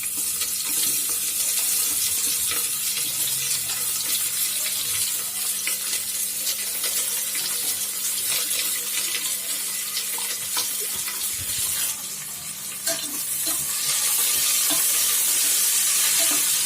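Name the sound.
chopped onions frying in a cooker for biryani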